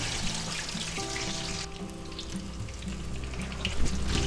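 Canned chicken patty frying in a hot pan, a steady close sizzle with a brief scrape as a big spatula flips it, continuing without talk.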